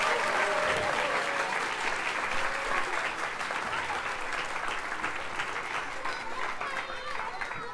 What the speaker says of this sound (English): Can we give one more round of applause for the preschool musicians?